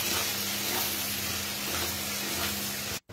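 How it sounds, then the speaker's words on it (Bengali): Chopped carrots frying in a pan for mixed fried rice give a steady, close sizzle and hiss that runs without a break, then cut out briefly near the end. "এবার দিয়ে দিচ্ছি গাজর কুচি। গাজরগুলোকে ভালো করে ভেজে নেব।"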